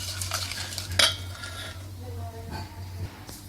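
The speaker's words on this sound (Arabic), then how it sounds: "غادي نضربهم بهذا الفوي مزيان." A whisk beats sugar and ingredients in a bowl for a coffee mousse, giving quick scraping clinks of metal against the bowl, with a steady hum in the background.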